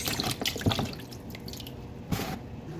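Running tap water splashes over raw chicken being rinsed in a sink, with steady flow and occasional louder splatters.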